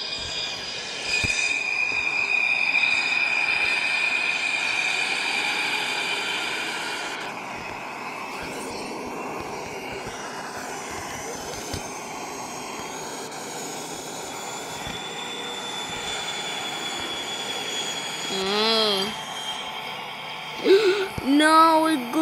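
A train moving in the Roblox Mega Miners video game gives a sustained rumble with high squealing, tonal wheel sounds throughout, steady and fairly loud, with brief warbling effects near the end.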